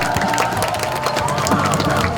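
A crowd at a Seoul campaign rally for Democratic Party candidates cheers and claps in a dense, continuous wash of voices and applause throughout.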